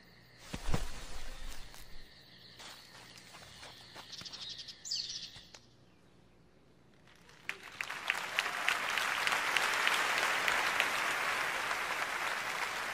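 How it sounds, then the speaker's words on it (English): A Google Veo 3 generated forest ambience. Scattered faint clicks and chirps come first, then after a quiet gap a dense, steady wash of crickets and insects rises and carries on at moderate level to the end. "VO added not just the sounds of the forest, but also the dialogue."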